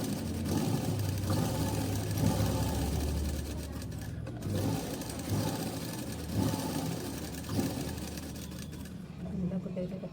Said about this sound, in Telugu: మళ్ళీ స్టిచ్ చేసుకుంటూ వచ్చాను. రెండో కుట్టు కూడా వేసాను.